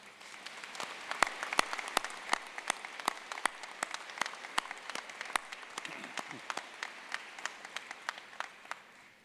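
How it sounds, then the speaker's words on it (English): Audience applause fills a university convocation hall for veterinary medicine and nursing graduates, a steady dense patter of many hands with sharper individual claps standing out, sustained at moderate volume throughout. "Let's give them a round of applause."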